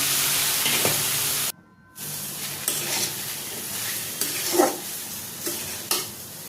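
Onion, boiled potato, carrot and sweet corn stir-fried in a kadai for a veg burger filling: a steady close sizzle with scraping stirs, a brief pause of near-silence, then more sizzling and spoon knocks.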